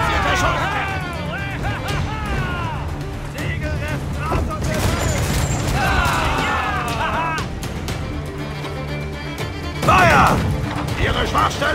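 Booming ship cannon blasts and crashing impacts ring out amid frantic shouting voices in an Assassin's Creed IV: Black Flag naval battle, with repeated heavy shots and debris over a battle din.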